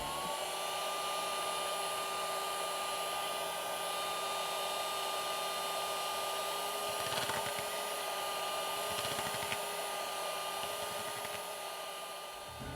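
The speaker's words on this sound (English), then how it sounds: "I thought it would be useful to show you how loud this vacuum is" A USB-powered mini vacuum motor whines steadily up close, a high, even drone lasting throughout with slight shifts in pitch.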